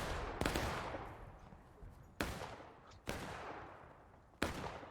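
Cannon fire in a Civil War line-battle game, four heavy booming blasts spaced unevenly across the span, each a sharp loud crack followed by a long rumbling decay, with distant battlefield noise underneath.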